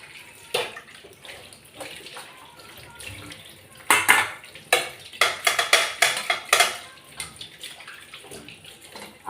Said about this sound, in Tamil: கேஸ் ஸ்டவ்லாம் கூட கழுவிடுவேன்